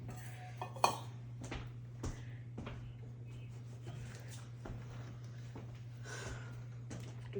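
Almond flour doughnut batter is mixed in a bowl, with soft irregular clinks and scrapes of a utensil against the bowl over a constant low hum, all faint and close, with no talk.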